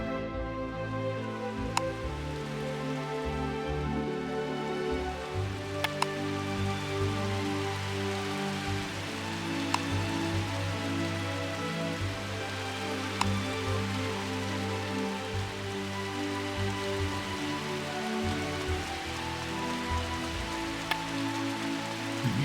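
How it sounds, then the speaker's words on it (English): Steady rain pours in the Uncharted Waters Online game, a dense continuous patter over a low rumble, broken by a few faint clicks and with no talking. "No, it's sure rainy out there."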